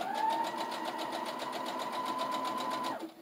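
A home sewing machine runs a straight seam along a fabric pouch edge, a quick steady whirring rattle of stitching at close range that stops abruptly near the end.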